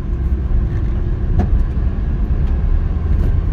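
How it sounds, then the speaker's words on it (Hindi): A new Hyundai Santro hatchback drives along with a steady, loud low rumble of engine and road noise heard from inside the cabin, with faint brief knocks and no talking. "गाड़ी पिकअप तो अच्छा उठा रही है"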